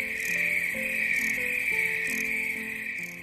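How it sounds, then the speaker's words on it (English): Crickets chirp in a steady, continuous trill, with faint tonal calls drifting in and out underneath. "crickets are drawn to the sound of my snores."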